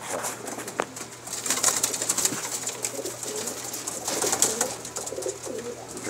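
A female pigeon coos close by in soft repeated throaty calls, accompanied by light rustling and brief wing movement, with no talking.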